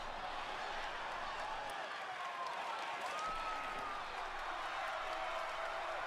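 Large wrestling arena crowd at WrestleMania IX, a broad distant roar of cheering and scattered applause that holds steady and quiet throughout, with no clear talk over it.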